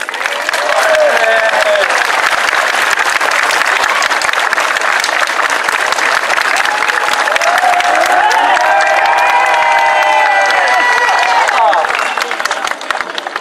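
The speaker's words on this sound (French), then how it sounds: "Et là, ça va être spontanément un tonnerre d'applaudissements." A crowd at a summer show gives thunderous, sustained applause for over ten seconds, dense clapping mixed with cheers and children's shouts.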